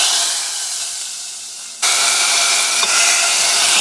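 Hot mustard-seed and asafoetida tempering in oil is poured into cowpea and chayote sambar, giving a steady loud sizzle that jumps to a sharper, brighter hiss about halfway through.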